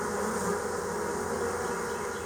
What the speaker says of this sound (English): These bees are on the back because those are the bees that are probably returning to the other hive.